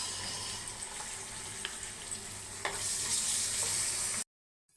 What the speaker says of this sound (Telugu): ఉల్లిగడ్డ వేగింది.